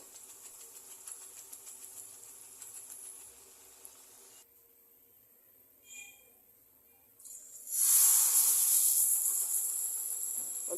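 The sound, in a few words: flower pitha cakes frying in oil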